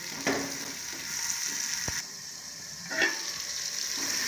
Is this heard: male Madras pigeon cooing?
no